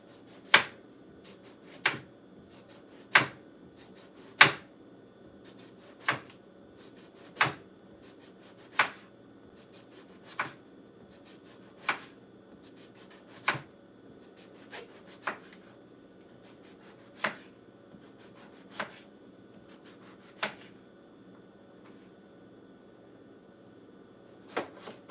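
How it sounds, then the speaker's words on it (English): Knife slicing eggplant on a cutting board, about fifteen crisp, sharp taps spaced at a steady unhurried rhythm, close and clear over a quiet background with no talking. "And I just cut them in slices."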